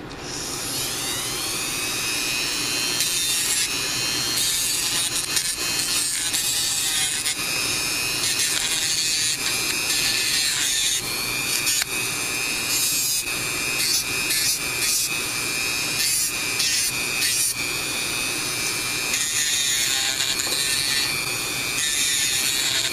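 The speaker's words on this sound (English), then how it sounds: "But let me clean up the edges with the drums. That's what all this little mini drum sander is." A small rotary mini drum sander grinds the edges of a plastic drone battery clip, a continuous high-pitched whining buzz with fluctuating rasping as the part is pressed against the spinning drum.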